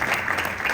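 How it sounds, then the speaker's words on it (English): Audience applause at a youth musical offering event, a brief burst of steady dense clapping at moderate loudness with no clear talk. "So please give a round of applause to him."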